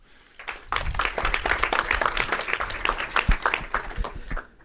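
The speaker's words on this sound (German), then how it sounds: "Einen herzlichen Applaus bitte." An audience at a conference talk breaks into applause, many hands clapping loudly and steadily for several seconds before it fades out.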